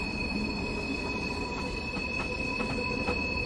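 Electric third-rail train running on the Portsmouth Direct line, a steady rolling rumble with high-pitched wheel squeal tones and occasional faint rail clicks, heard from inside the carriage.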